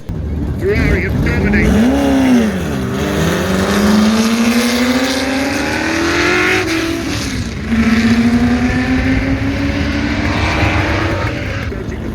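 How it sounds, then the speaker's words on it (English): Classic motorsport and drag cars race down the mile-long main runway at Sywell Aerodrome, engines rising in pitch through long, loud accelerating passes. A second car surges in partway through, with crowd noise and talk beneath. "the classic motorsports and drag cars racing along Sywell Aerodrome's mile-long main runway"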